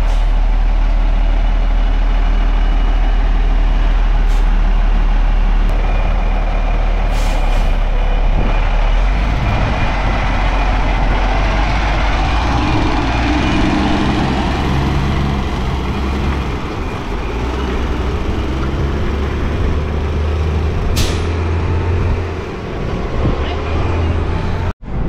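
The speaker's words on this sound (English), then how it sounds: "Concrete truck's all washed up and they are about to head out of here." A concrete truck's diesel engine rumbles steadily at a parking lot drainage basin repair site, idling loudly up close and then pulling away, with a brief beep near the start.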